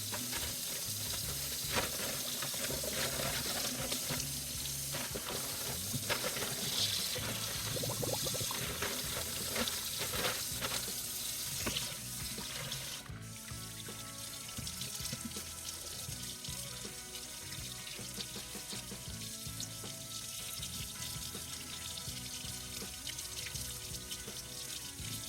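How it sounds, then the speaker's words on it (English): Corned beef brisket rinsed well on both sides under a running kitchen faucet, a steady close hiss of water spattering onto the meat and sink, with small clanks and shifts mixed in and no talking. "I need to rinse it really, really well, both sides."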